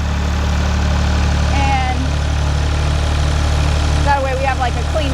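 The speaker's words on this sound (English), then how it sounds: "Hopefully you can hear me over the tractor." A tractor breaking up grassy ground where old chicken pens stood: a steady, loud, low diesel drone runs throughout, close to the listener, while someone talks briefly over it.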